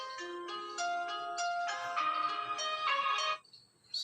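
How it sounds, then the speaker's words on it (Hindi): A phone ringtone plays during a call, a melodic run of electronic tones repeating in phrases before cutting off near the end. "माफ़ करना थोड़ा रिंगटोन हो गया था"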